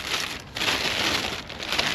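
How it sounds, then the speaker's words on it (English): Rain beginning to fall outdoors near a newly restored two-car trailer, a steady close hiss of drops pattering on surfaces with brief dips, no voices. "it's starting to rain"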